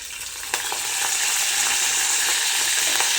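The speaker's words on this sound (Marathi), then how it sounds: "चला आपण हे टाकून घेऊयात फोडणीसाठी अगोदर. आता आवाज कसा येतोय बघा." Spices dropped into hot oil for tempering crackle and sizzle close up, a sudden burst about half a second in that settles into a dense, even hiss with small pops, no voices.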